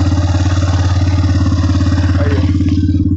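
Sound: motorcycle engine being started

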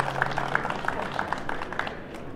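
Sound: applause at a ceremony

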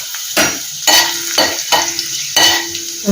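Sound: mustard seeds, fenugreek and dried red chili sizzling in oil

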